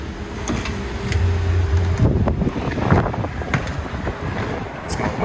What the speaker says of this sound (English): It's kind of windy out there.